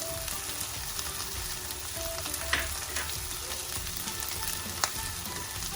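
Prawns sautéing in a pan with a steady close sizzle and crackle, broken by occasional small pops and clinks, no talking.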